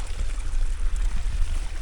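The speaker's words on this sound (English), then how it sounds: "Back there is one of the better flows of water." Spring water flows and splashes steadily on a rainy day, a close, continuous rushing trickle with a deep rumble and no talking.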